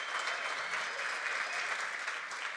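A conference audience at a tech innovation event claps together in an even, continuous round of applause, heard from a moderate distance and fairly soft throughout.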